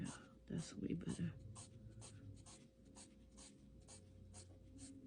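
A charcoal pencil scratches across paper as eyebrows are drawn on a portrait: a steady run of about a dozen short, dry, close strokes, with a soft voice murmuring underneath at the start.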